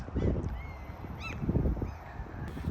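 Gulls calling over the low rumble of a Walmart parking lot in Alaska, a few short bright cries and squawks cutting through steady traffic and vehicle noise.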